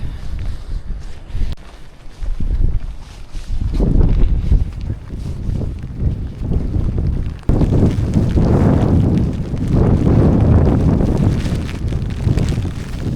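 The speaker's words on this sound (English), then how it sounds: "The wind is insane." Strong wind on the Azores Islands buffets the microphone with loud, continuous rumbling gusts that rise and fall across the whole stretch, with no voices heard.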